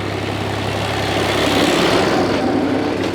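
An old tractor engine approaches while pulling a plough during field preparation for sowing, a steady loud mechanical drone with low harmonic hum that swells slightly toward the middle.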